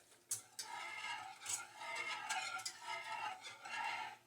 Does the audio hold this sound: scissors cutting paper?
no